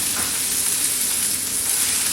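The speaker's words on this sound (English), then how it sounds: "we'll just let that sizzle for cook out for a few more minutes" Parma ham and chicken sizzle steadily in a hot frying pan, a continuous broadband hiss and crackle at moderate volume with no pauses or voices.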